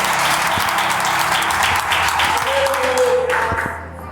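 A church congregation claps steadily in sustained applause, loud and continuous, with a few sharper individual claps standing out and voices mixed in.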